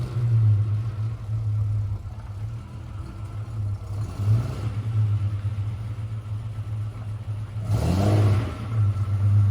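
A Valiant Charger with a 265 engine, triple carburettors and a 4-speed rumbles steadily, then revs up twice in throaty surges, close and loud with no voices.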